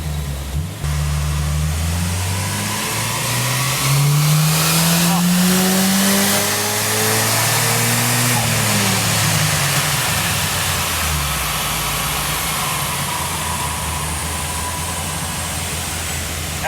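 Turbocharged Gemini car engine on a dyno power run, revving hard through rising gear sweeps into a loud sustained roar, with voices talking over it.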